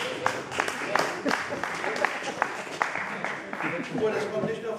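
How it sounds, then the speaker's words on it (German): Recorded applause effect started by a solo poet-songwriter on stage, a dense crowd-clapping texture with sharp individual claps, steady and moderately loud throughout, with some talk underneath. "ich habe schon endlich einen Applaus eingestellt"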